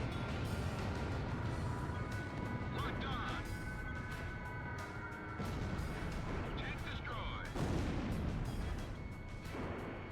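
Aircraft guns fire in the flight combat game Ace Combat Zero, a dense rattling burst of rapid shots with engine roar, while a person talks over the action.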